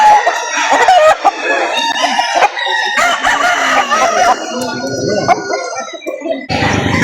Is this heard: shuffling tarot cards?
no